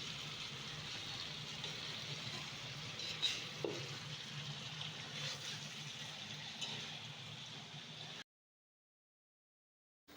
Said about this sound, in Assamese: এতিয়া আকৌ গুটিখিনি মই ভাজি থাকিম যাতে পিঁয়াজখিনি একেবাৰে গলি যায়।